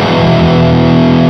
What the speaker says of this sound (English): Killer distortion.